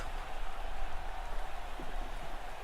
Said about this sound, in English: Yeah, you never get rain like this in Namibia